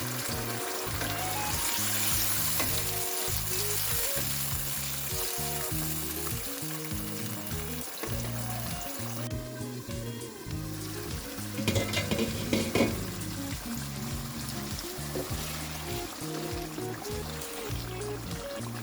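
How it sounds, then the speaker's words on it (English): Tomatoes and pepper fry in a pot for an egg stew, giving a loud, steady sizzle that runs throughout with rhythmic stirring scrapes and a brief watery pour midway; no one speaks. "I'm going to add my tomatoes and pepper. Stir it a bit, then I'll allow it to cook for some time."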